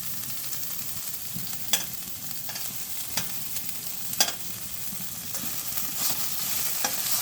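Pumpkin leaf paste stirred and mixed into hot oil in a pan, a steady close sizzle with soft scraping strokes and a few sharp clicks of the utensil.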